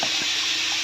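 Water for pani puri pouring or running steadily, a continuous broad splashing rush that stays close and fairly loud throughout, with no voices.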